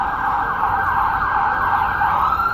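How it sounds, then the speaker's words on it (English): An ambulance siren wailing along Las Vegas Boulevard on the Strip, a loud continuous sweeping tone over low street and traffic rumble. "I got an ambulance going down the boulevard"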